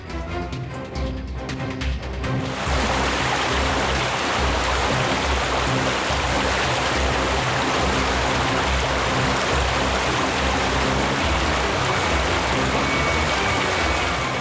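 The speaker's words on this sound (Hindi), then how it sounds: "लो लो, आ गए वाटरफॉल पे।" A waterfall roars as a loud, steady rush of falling water that swells in after a quieter start and then holds unbroken for the rest of the clip.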